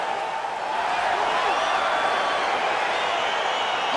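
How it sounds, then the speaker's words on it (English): Arena crowd noise in the UFC 4 fighting video game, a steady, dense roar of an excited audience as a bout between two fighters gets underway, continuous and even throughout. "crowd getting excited as this fight gets underway"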